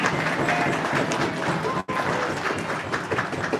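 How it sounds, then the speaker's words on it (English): A banquet crowd at a year-end youth hockey event claps in dense, continuous applause, broken by a brief sudden dropout midway before the clapping carries on. "So let's hear a round of applause for Darren,"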